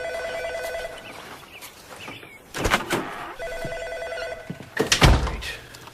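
A telephone rings in a domestic scene, two clear bursts of ringing separated by a pause, fairly close and loud with low room noise between them.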